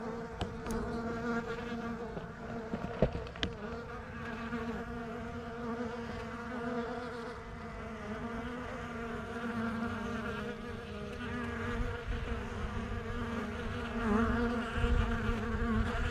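Bees hum in a steady, close drone at a beehive, with a few faint clicks early on and no voices.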